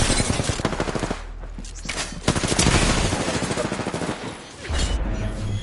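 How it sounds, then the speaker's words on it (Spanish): Rapid automatic gunfire from the battle royale video game Apex Legends, loud bursts of repeated shots with brief pauses, filling the scene. "Estoy recibiendo disparos."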